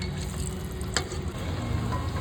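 Fish kachori stuffed with bhetki fish frying in hot oil at a street food stall, a steady, close sizzle and bubbling with one brief sharp crackle partway through.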